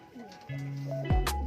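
Pet pigeons in a bird enclosure give soft, low throaty coos, close by, with a few steady tones and some clatter, while someone speaks nearby.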